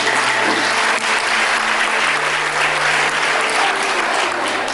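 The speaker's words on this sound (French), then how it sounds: "applaudissez pour vous-même" Sustained, loud applause from a retreat audience in a worship gathering, dense and steady throughout with a faint low hum beneath and no talk.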